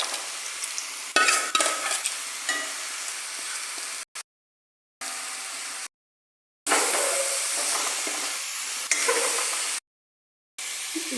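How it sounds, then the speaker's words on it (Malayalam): Mustard seeds, urad dal and dried red chillies frying in hot oil for a Kerala jackfruit thoran, a steady close sizzle and crackle with bursts of stirring, broken by several brief silent gaps. "കടുക് വറുത്തതിൽ ഉഴുന്ന് പരിപ്പും വറ്റൽമുളകും ചേർത്തതാണ്."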